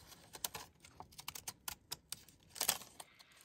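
Decorative-edge scissors snip through construction paper with a string of quick, crisp crunching cuts, fairly close and faint, with no talking over them.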